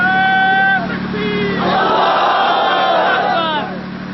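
A large crowd at a Deobandi religious gathering chants slogans in unison, loud massed voices rising together, holding, then trailing off.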